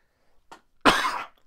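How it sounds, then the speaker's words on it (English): A single cough into the elbow during a lecture, a brief throat catch followed by one short, sharp, close burst, with no talking. "Yes, I did cough into my elbow,"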